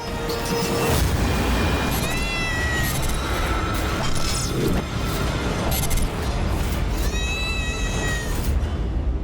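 A cat meows and yowls in drawn-out cries amid loud, dense background noise and rumbling, with a couple of distinct wailing calls.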